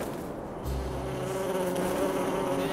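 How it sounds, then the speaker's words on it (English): Steady insect-like buzzing of a swarm of cartoon bee guards, a continuous drone that swells slightly louder partway through and holds, with no talking over it. "Like a buzzing sound."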